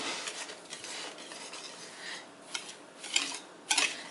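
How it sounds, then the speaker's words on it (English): A whisk mixes dry cornbread ingredients with salt in a bowl, a soft continuous scratchy rustle with a few sharper taps against the bowl near the end, faint and close. "I'm just going to take the whisk and mix that up"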